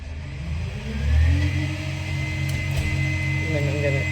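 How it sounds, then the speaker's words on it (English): A garbage truck drives by, its mid-pitched engine revving up and rumbling steadily as it passes at moderate distance. "let the garbage truck go by"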